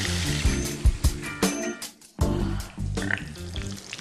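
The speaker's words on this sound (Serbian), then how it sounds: "I to možemo napržiti." A breaded veal cutlet with a cheese-mixed crumb coating fries in a pan, giving irregular crackling and sizzling bursts with clattering handling noises and a short quiet gap, loud and close with no talk.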